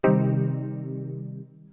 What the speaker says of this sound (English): So you get the minor sound.